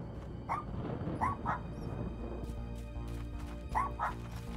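A dog in the video game Little Misfortune gives several short, yappy barks and yips in uneven bursts over a steady background.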